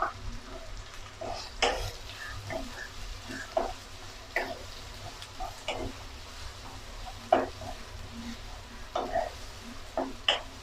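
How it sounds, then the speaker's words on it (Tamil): Finely chopped medium onions fry in oil in a pan for Tamil bread masala, a low sizzle broken by repeated scraping clicks of a spoon stirring against the pan. "வெங்காயம் வந்து நல்லா ஃப்ரை ஆகட்டும்."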